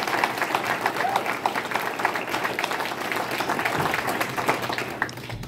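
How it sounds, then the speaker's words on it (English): A crowd at a wrestling hall of fame induction ceremony gives sustained applause, steady and fairly loud, many hands clapping together with no pause throughout. "let's give him one more round of applause."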